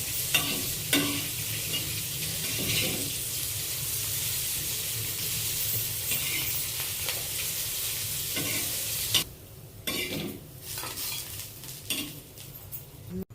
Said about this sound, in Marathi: थोडेसे तेल टाकलेले आहे आणि आता आपण दोडक्याची सालं त्याच्यावर फ्राय करून घेत आहोत